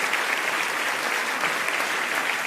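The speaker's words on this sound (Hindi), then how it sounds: "बहुत सारी तालियों के साथ।" A large crowd at a festival event applauds steadily, a thick, continuous roar of clapping heard from within the audience without any voices over it.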